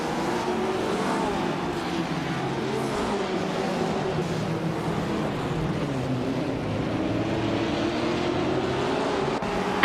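Several race cars in a racing video game accelerate and roar continuously, engines droning and revving steadily at a loud, even level for the whole stretch.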